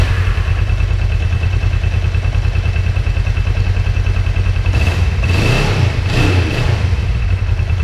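A Kawasaki 454 LTD motorcycle with a newly installed ignition coil runs at a steady close idle, a dense low thrum with a couple of short throttle blips near the end.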